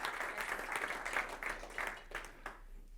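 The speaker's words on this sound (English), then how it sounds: "Big round of applause for you as well." An audience at an automotive industry event applauds as a guest is called on stage, a fairly faint, uneven burst of clapping that thins out and fades by the end.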